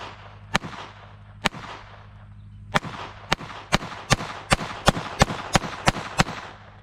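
A German Sport Guns 922 CA .22 pistol fired offhand with Winchester white box ammunition: sharp, close reports, two spaced shots, then a quicker string of about ten cracks at a steady rhythm, each with a brief ringing tail.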